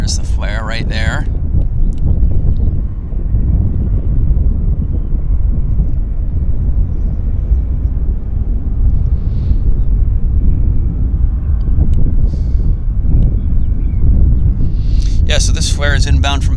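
Flair Airlines flight 802 from Edmonton lands at Vancouver airport, a steady loud roar of jet engine and wind rushing without a break, with voices talking briefly at the start and end.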